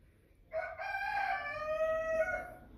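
A Rhode Island Red cockerel crows once, a clear, strong call with a rising start and a long drawn-out finish, heard fairly close against a quiet background.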